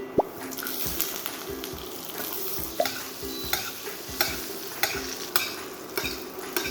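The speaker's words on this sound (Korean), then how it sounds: "버터를 넣고 같이 구워줄 거예요" Vegetables fry in butter in a pan, with a steady close sizzle and spatula strokes and clicks against the pan every second or so.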